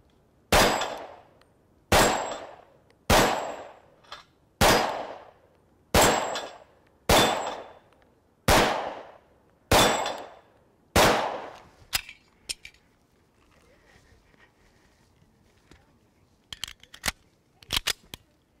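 A full-size 1911 pistol chambered in Super 38 fires about nine sharp, loud shots at a steady pace of roughly one every 1.3 seconds, followed by a quieter pause and then a few brief metallic clacks.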